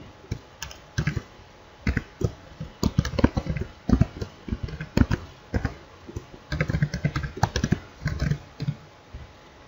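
Keys clatter steadily on a computer keyboard, a close, brisk run of clicks in uneven bursts with short pauses, no speech over them.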